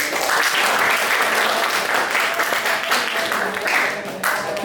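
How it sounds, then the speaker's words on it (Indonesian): A classroom audience at an exam presentation on visual communication design breaks into steady, loud clapping that fills the whole stretch and keeps an even intensity before tapering slightly at the end. "Terima kasih tepuk tangan dulu."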